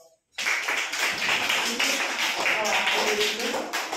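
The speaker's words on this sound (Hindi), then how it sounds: "इनके लिए सबको ताली लगाओ" Parents, community representatives and former students gathered at a school function break into a sustained round of clapping that starts abruptly and stays dense and steady, with scattered voices mixed in.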